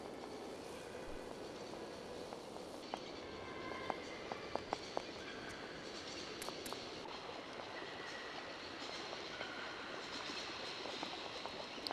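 A train moves in the adventure game Syberia, a faint continuous rolling rumble with scattered light clicks and metallic ticks, heard alone without voices.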